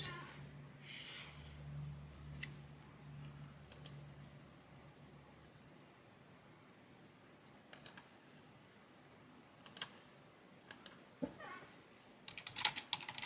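A computer keyboard is typed in scattered quiet bursts of soft clicks, close and faint, with a low hum in the background.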